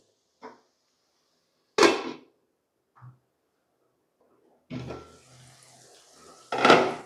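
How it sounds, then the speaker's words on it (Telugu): A lid is set onto a cooking pot in a home kitchen, with a few separate clattering metal knocks, the loudest near the middle and another at the end, each brief and close, with no talking. "ఒక వన్ మినిట్ మూత పెడతాను"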